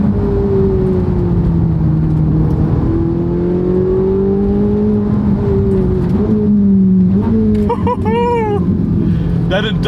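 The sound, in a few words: Ferrari 458 Italia naturally aspirated V8 engine revving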